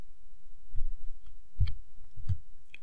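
Several light mouse clicks spaced out over a few seconds, quiet and close, with a small cluster in the middle suggesting a quick triple click on text.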